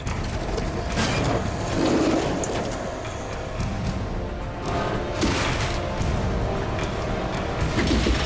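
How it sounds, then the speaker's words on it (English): During a heavy wreck recovery, a trailer axle tears off under strain: grinding, creaking metal and clanking mechanical noise rumble on steadily with a few sharper cracks, fairly loud and close. "Oh, there goes the axle."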